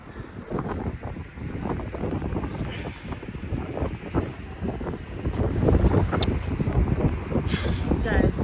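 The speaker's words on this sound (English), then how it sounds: "the wind is blowing" Cold wind gusting steadily across a microphone beside a river near a railway bridge, a continuous rough rumble that swells louder toward the end, with faint rattles mixed in.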